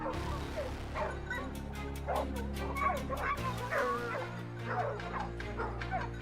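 A hunting dog yips and barks in quick, excited bursts while chasing a wild boar through swampy ground, with a steady low drone and other noise underneath throughout.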